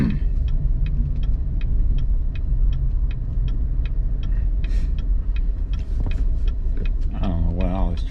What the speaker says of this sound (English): I don't know where all this traffic is coming from today.